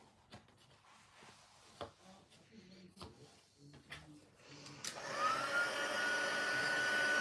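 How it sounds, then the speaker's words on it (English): An embossing heat tool for card making switches on after some quiet handling and tapping, then a loud, steady whining blow with a rising tone sets in and keeps running. "Here's my heat tool. Right, we're going to heat"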